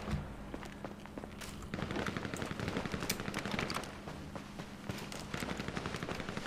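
Gunfire in GTA 5 Online comes as rapid machine-gun bursts and scattered single shots, with dense rattling volleys at close range that stop and start across the moment, with no talk.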